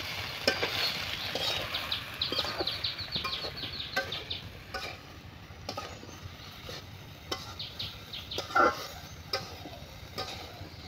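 Cumin and ginger paste being stirred in an oily pan, repeated spatula scrapes and knocks in an uneven rhythm over a soft sizzle, fairly close, with no speech.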